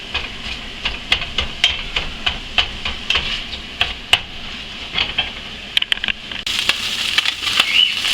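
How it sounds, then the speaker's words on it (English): Frying sausage in a pan after a splash of water, giving a continuous hiss of steam and sizzle broken by sharp crackling pops and spits, up close with no talking. "Just a splash of water up there helps steam it up"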